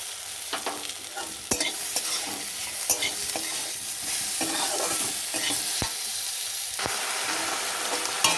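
Raw mango pieces with salt are stirred in a pan for pickle, producing a steady close sizzle broken by repeated sharp scrapes and clicks of a spoon against the metal, with no voices.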